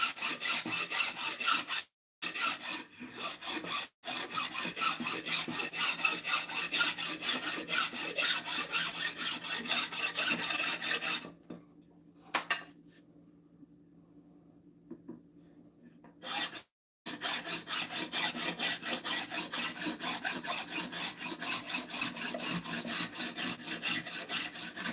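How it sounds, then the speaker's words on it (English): An axe head being filed by hand with a double cut file, smoothing deep gouges left by a farrier rasp: steady, close rasping strokes run continuously, broken by a few short pauses and one longer quiet stretch. "Let's just go at this with the file."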